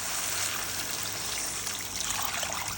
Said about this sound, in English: So now we're going to add water.